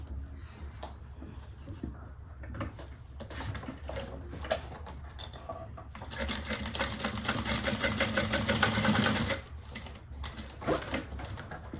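A sewing machine basting a seam 1/8 of an inch from the edge, its needle chattering in short bursts before a loud steady run of about three seconds that stops abruptly.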